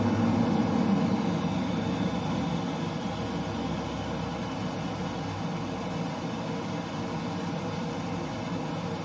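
A steady, moderately loud aircraft engine drone with broadband rumble and hiss holds evenly throughout, easing slightly after the first seconds as the throttle comes back during a rapid-descent dive in Flight Simulator 2020, played in VR.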